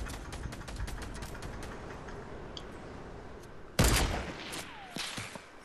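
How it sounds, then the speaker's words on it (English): Video game gunfire rattles in quick bursts of sharp shots over a busy background. A louder, denser volley hits near the end. "I'm gonna shoot out this tree right here."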